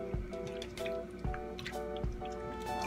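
Water poured onto 24-inch Malaysian curly hair extensions, giving a run of soft wet drips and splashes in uneven bursts over faint background music.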